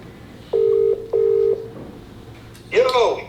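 Two steady telephone dialing tones sound loud and close, each lasting about half a second, and a voice follows right after them.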